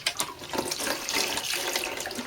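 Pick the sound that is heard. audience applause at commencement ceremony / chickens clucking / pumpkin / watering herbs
watering herbs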